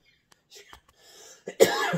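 A single sharp cough from a dry throat bursts out near the end, preceded by faint shuffling and soft breathy sounds, close and fairly loud.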